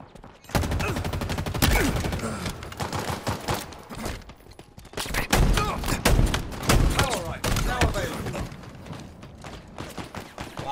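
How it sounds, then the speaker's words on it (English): Loud, dense bursts of shotgun fire in Halo Infinite multiplayer, repeated blasts with heavy thuds stacked one after another over busy game action, with voices speaking throughout. "Fucking shotgun sucks."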